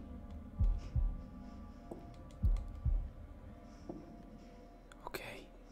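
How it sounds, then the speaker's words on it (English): A heartbeat thumps in The Devil in Me horror video game, a few deep double beats spaced about two seconds apart over a low hum, with a faint voice near the end. "Press X in time with the heartbeat"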